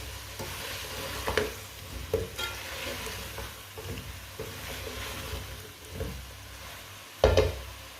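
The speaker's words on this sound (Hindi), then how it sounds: "गोभी डाल लेंगे, अच्छी तरह मिक्स कर लेंगे।" Cauliflower fries in a pan for aloo gobi under a soft, continuous sizzle, with scraping stirs that come and go and a louder clatter near the end, no talking.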